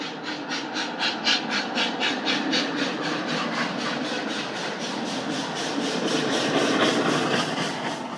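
A train engine rumbles steadily with rhythmic pulsing, like railroad cars rolling along the track at moderate distance, continuous and without speech.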